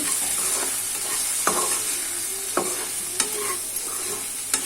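A spoon stirs okra and dried prawn curry in a pan, with a continuous sizzle of frying under several sharp scraping knocks against the pan, close and clear with no talking.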